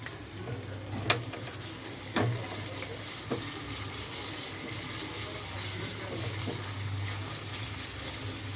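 Sliced onions frying with a pinch of salt in a pan, a steady soft sizzle running throughout with a few faint clinks of a utensil, no talking.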